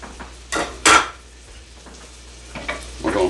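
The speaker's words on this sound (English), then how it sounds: "We're going to stir that around a little bit" Minced garlic stirred in butter in a pan, with a few distinct scrapes and clinks of the utensil against the pan over a soft, quiet sizzle.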